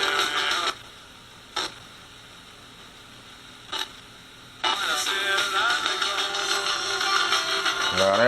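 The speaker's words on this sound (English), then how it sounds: "There's the static station there." Hissing FM static from a Kaito KA210 pocket AM/FM NOAA weather radio with its antenna extended, broken by brief silent gaps and clicks while tuning, then a steady loud wash of noise toward the end.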